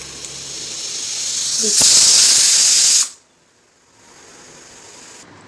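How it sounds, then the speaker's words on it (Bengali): Steam from a pressure cooker boiling mixed dal hisses loudly in a steady broadband rush, then cuts off abruptly and leaves a softer lingering hiss; a voice speaks briefly near the start. "দেখুন বন্ধুরা আমাদের কুকারে সেদ্ধ হচ্ছে"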